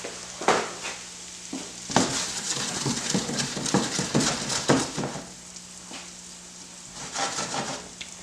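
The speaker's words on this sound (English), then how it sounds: "We'll let that sizzle down." Onions and yellow pepper sizzle in melted butter in a pot for white chicken chili, a steady close frying hiss with stirring scrapes and clatters rising and falling throughout.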